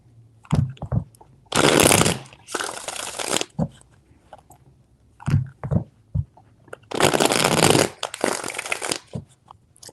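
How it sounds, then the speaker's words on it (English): Tarot cards shuffled by hand in two long riffling bursts, each about a second and a half, with scattered taps and card handling between them, close and fairly loud. "4 shuffles."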